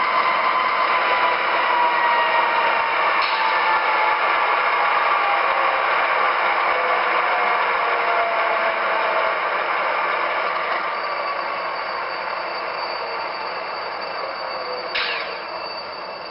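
A steady, continuous running sound from an MTH RailKing Canadian National ES44AC Imperial diesel model locomotive, holding level for most of the stretch and then easing slightly toward the end, with a couple of brief high squeals.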